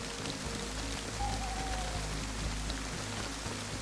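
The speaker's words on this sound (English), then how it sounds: "It started to rain. I think this might be the first time we've had rain on this server." Steady rain falls across an outdoor scene in the survival video game DayZ, a continuous even hiss with a low rumble beneath, moderately quiet and unbroken, with no talking.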